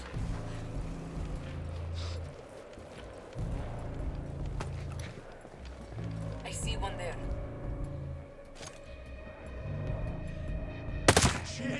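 Gunfire in the video game Ghost Recon Breakpoint, scattered shots and short bursts over a low rumbling game backdrop, with in-game voices talking over parts of it and a sharp loud crack near the end.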